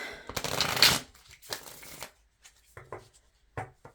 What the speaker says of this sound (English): This deck just is sticky and it doesn't overhand shuffle